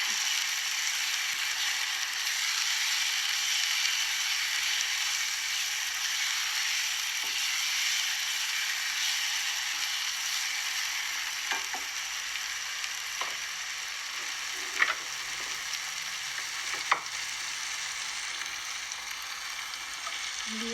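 Spinach sizzles and fries in a pan with spices, a steady high hiss throughout with occasional faint clinks of stirring, no voices.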